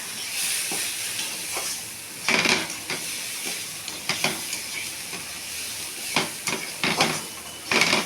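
Hot water poured into moong dal in a pan, with bursts of hissing sizzle and steam at intervals over a steady background of stirring and pan clatter, fairly close.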